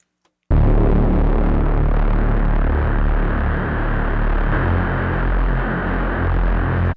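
Distortion from the cross modulation filter of the Zebra2 software synthesizer, a dense, buzzing, harmonically rich drone that starts abruptly and holds steady and loud for several seconds before cutting off.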